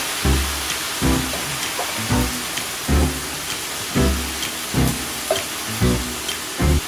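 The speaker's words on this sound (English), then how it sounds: "now we want to add some of our stock" Strained shrimp stock ladled into frying Hokkien mee noodles, giving a steady sizzling hiss with repeated low splashing pours and clatters at regular intervals, about eight bursts, close and fairly loud, with no talking.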